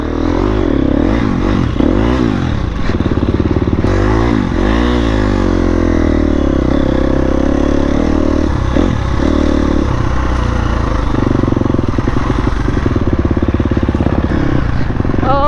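A KTM motorcycle rides down a mountain bike trail, its engine loud and close throughout, rising and falling as the throttle opens and eases, with clattering and scraping from the rough ground.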